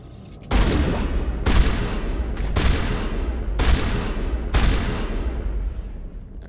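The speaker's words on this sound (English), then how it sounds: "Here, I'll just kill this thing with a shotgun." Shotgun blasts in the video game Mass Effect, set on Noveria: five heavy booming shots about one second apart, loud and close, each followed by a short rumbling tail, with no talking.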